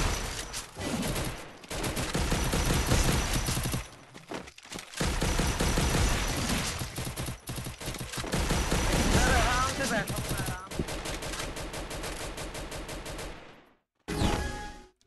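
Shotgun and machine gun fire in the Free Fire battle game, dense bursts and rapid volleys that come and go across the stretch with brief gaps, loud and close, with a voice talking over parts of it.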